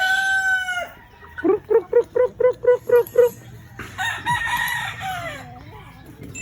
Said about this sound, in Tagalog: At yung ating mga manok.